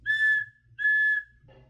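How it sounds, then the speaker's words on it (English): A silver whistle is blown twice, two clear sustained shrill blasts each lasting about half a second, loud and close, with a short gap between them and no other sound. "so she blew her silver whistle twice"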